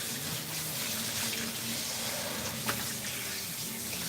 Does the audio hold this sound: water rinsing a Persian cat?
yes